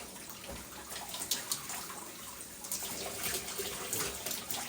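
Shower water runs steadily from a shower head while conditioner is rinsed out of hair, a continuous close hiss of spray with small splashes and fluctuations, with no voices.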